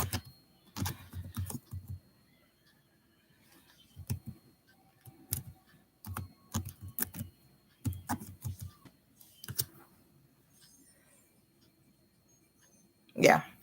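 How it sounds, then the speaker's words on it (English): An email being typed on a computer keyboard, close and sparse, in short bursts of clicks separated by quiet gaps, with one sharp sound at the end. "let me just type the email here"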